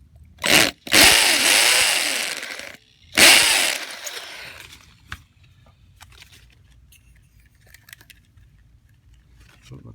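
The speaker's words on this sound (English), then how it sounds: "so I'm gonna drill just a touch more" An air-powered drill bites into a threaded metal part in three loud, close bursts of harsh whirring. The bursts are separated by short pauses and followed by quieter handling clatter.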